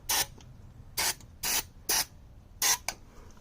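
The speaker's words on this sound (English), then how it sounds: "so I got some of this starting fluid. I'm gonna put it inside of the carburetor here," Starting fluid is sprayed into the carburetor of a Cadillac Eldorado 507ci V8 in five short, sharp aerosol bursts, close up and fairly loud, with brief pauses between them and no talking.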